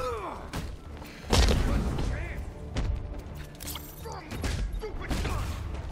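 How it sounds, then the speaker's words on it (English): Explosions and heavy impacts from Batman: Arkham Knight combat crash in loud bursts, with a big boom near the start and further thuds and smashes amid game noise and voices. "I slammed that guy's face into an explosion"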